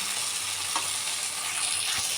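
Fish curry sautés in a pan before water goes in, a dense continuous sizzle and hiss close by, with a couple of soft stirring knocks and no voices.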